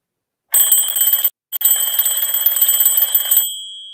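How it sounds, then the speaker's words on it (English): An alarm clock rings loudly with a shrill, rapidly pulsing electronic tone, breaking off briefly before resuming for about two more seconds and then stopping abruptly. "So when that alarm went off,"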